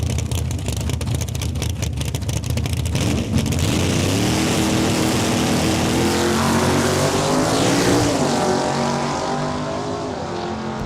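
A Chevrolet S10 launches in a drag race at Saskatchewan International Raceway in Saskatoon, its engine a loud, sustained roar whose pitch climbs steadily through the gears over a constant, heavy wash of track noise.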